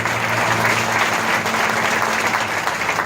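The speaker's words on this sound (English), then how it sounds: "Give her another round of applause." An audience at the grand opening of a district office breaks into steady, sustained applause, dense clapping filling the room throughout.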